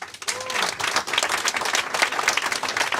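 An audience at the Glenwinny Distillery launch party in Lisbellaw breaks into warm, sustained applause, dense clapping that swells after a brief voice at the start and continues evenly.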